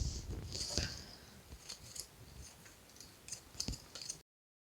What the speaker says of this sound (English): So what I think I'm going to do is cut this apart.